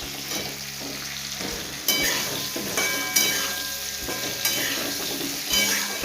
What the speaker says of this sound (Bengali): তো চলুন এটা ভালো করে আগে ভেজে নিই।